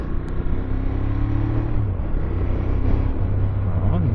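A Ducati Monster 1200S motorcycle on a test ride, its 1200 cc engine droning loud and steady with low rising and falling rev tones, close up and alone.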